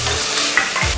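Chopped carrot tipped into a pan of kurma that is already frying, giving a loud, close, continuous sizzle with stirring scrapes throughout the brief moment and no talking.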